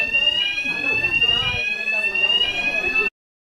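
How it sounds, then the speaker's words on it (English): A fire alarm sounds with a piercing, steady high-pitched tone for about three seconds, then cuts off abruptly into silence. "Fire alarm."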